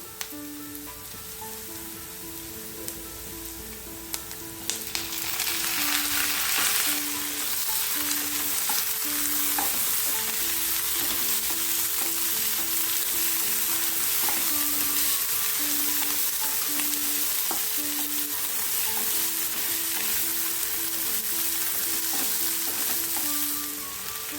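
Onions sizzle steadily in a hot pan for egg masala, with a louder burst of frying as tomatoes go in and occasional stirring scrapes, continuing without talk.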